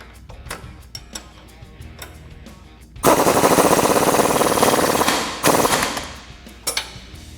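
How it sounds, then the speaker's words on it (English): An impact wrench tightens 18 mm suspension bolts on a Jeep Wrangler JL during a Teraflex lift install, two loud rattling bursts of about two seconds and then one second, after light metallic clicks. "now to tighten this down, again, we're using 18 millimeter tools on both sides here"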